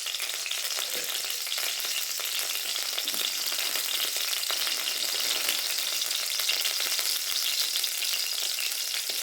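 Ghee and oil sizzle steadily in a pan for a dhaba-style dal tadka, making a close, continuous crackling hiss that holds evenly throughout with no voices.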